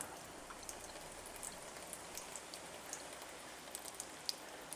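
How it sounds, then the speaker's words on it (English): Water running and splashing while a test tube is rinsed out, a soft, steady patter with small drips and splashes throughout, fairly faint and without speech. "Rinse the test tube out."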